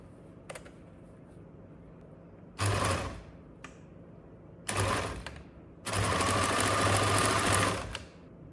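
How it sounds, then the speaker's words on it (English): A sewing machine stitches elastic onto top fabric in three close mechanical runs, two short bursts and then a longer steady one, with quiet pauses between them. "Then I sew both ends of the elastic with the top fabric."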